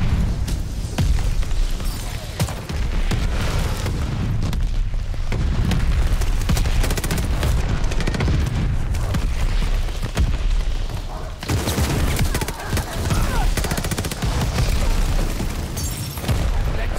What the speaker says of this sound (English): They're sending mortar shells.